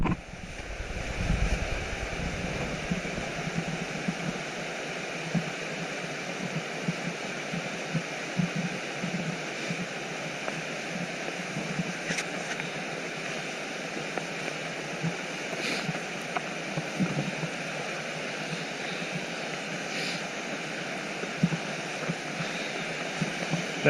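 Kaaterskill Falls in winter, a constant broadband waterfall roar that is steady and moderately loud throughout, with occasional faint knocks and no speech.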